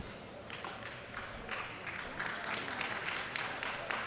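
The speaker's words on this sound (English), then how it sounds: "Crowd appreciates the effort of Anna Bright." Crowd at a pickleball match breaking into applause, a dense, sustained patter of clapping that swells slightly toward the end, fairly distant and without talk.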